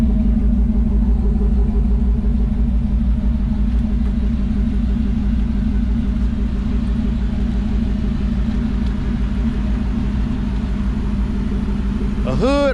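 A car engine idles steadily up close in a low, continuous rumble; the car has worn tires and a transmission that shifts oddly.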